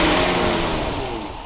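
Engine of a 1960s Mercedes 280SE 3.5 coupe (W111) running steadily and close by, a broad rough drone that eases off slightly toward the end, with no talk over it.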